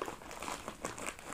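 Close, quiet crinkling of parcel packaging being opened, a continuous rustle of small crackles throughout.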